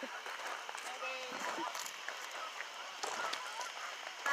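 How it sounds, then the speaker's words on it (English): Geese honk repeatedly out in the dark at a dam at night, distant and scattered, while people talk close by. "There's geese out there."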